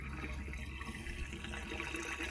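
Water poured by hand from a watering can into a motorhome's fresh-water tank makes a steady, close-up gushing and gurgling that continues without a break.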